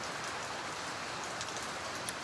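Steady, dense patter of rain falling on a surface, even and continuous with no voices.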